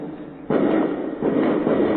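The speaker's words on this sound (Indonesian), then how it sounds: "Senang sekali mungkin Tuhannya ada kembang apinya." A loud burst of fireworks goes off, booming and crackling, with a second swell of pops following; the sound is muffled and slightly distant.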